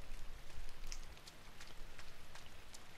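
Steady rain patters as ambience in the video game INSIDE, a soft continuous hiss with scattered brighter drop hits, quiet and without talk.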